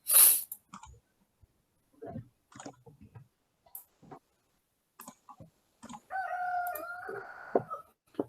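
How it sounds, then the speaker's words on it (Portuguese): A rooster crows once, loud and close, at the start, followed by scattered clicks and soft clucking in a quiet room, then a longer drawn-out crow-like call near the end. "Não dá para desligar o galo"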